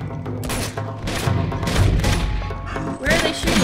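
Dense gunfire in Uncharted 2: Among Thieves, with a continuous loud mix of shots, booms and thuds over game music and clatter, close and unbroken for several seconds.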